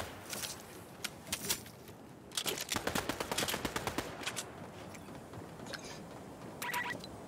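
Repeated heavy shotgun blasts in Fortnite, a burst of sharp close shots clustered mid-clip with scattered single reports before and after, loud over game noise with no talk.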